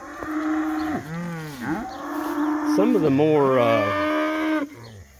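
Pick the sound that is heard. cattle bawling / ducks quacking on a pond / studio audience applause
cattle bawling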